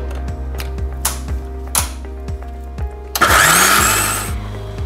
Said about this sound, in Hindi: मैं एक बार फिर से मिक्सी चलाऊंगी